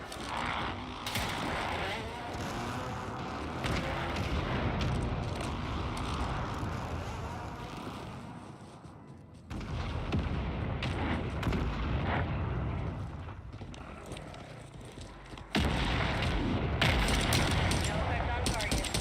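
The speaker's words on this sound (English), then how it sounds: "Mortar strike inbound." Mortar strike explosions in Call of Duty Warzone, heavy rumbling booms and crackling blasts over about twenty seconds, growing louder in the final stretch, with faint voices underneath.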